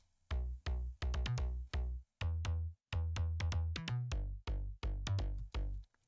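A punchy slap house synthesizer bass plays a rhythmic pattern of short, loud, bright notes with quick stabs and brief gaps, upfront and alone.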